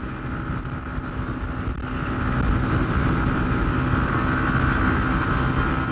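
A Yamaha MT-15 motorcycle engine rises in pitch and volume as the throttle opens partway through, a rough, steady drone with some wind rush on the microphone.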